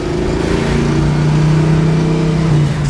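A basic 1967 Chevrolet Chevy II with a V8 and four-speed, built in vintage race car style, holds a steady, loud engine note with a deep continuous rumble that rises slightly in pitch, with no talk over it.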